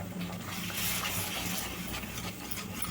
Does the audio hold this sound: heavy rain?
no